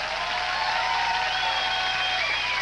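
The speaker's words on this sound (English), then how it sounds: "Don't be clapping and stuff" An audience at a concert applauds, a steady wash of dense clapping throughout with no clear peaks.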